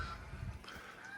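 Ducks honking and quacking loudly on a rural property in Camiling, Tarlac, Philippines, a continuous noisy flock chorus close by with steady outdoor background.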